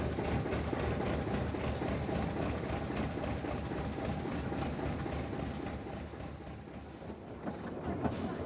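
Susan, a small internal-combustion locomotive built for military depots and industrial sites, rumbles along a narrow-gauge light railway at the Rural Life Centre, a steady engine drone with clickety-clack wheels on the track that eases slightly toward the end.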